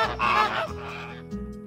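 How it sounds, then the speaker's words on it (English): A flamingo call from a zoo animals learning app: a short run of loud, nasal honking calls, goose-like, with a pause and one more honk near the end. "Flamingo."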